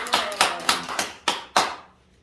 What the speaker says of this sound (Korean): 우리 감사 박수 한 번 올립니다.